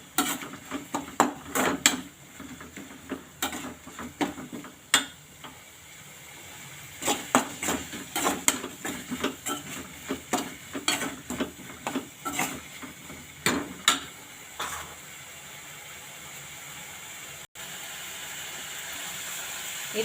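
Ginger garlic paste is sautéed in a pan for prawn gravy: a spatula clicks and taps against the metal pan again and again over a steady frying hiss, then the pan settles into a continuous sizzle.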